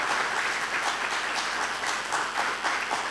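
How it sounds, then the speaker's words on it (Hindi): A church congregation gives loud, sustained applause for Jesus, with dense clapping filling the room at an even level from start to end. "Can you clap for Jesus? जोरदार ताली आपकी।"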